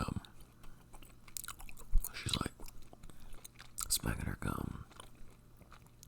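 Gum chewed loudly and wetly close to the microphone, with irregular smacking and crunchy bites scattered through the clip and soft whispered talk in between.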